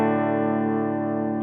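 Clean, unaffected electric guitar tone played through an Orange amp with a touch of reverb, a steady sustained chord ringing evenly and close with no talking.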